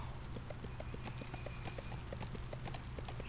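Horse mount hoofsteps from the video game Crowfall, a steady, even clip-clop of hooves trotting along over a low constant background hum, with no talk.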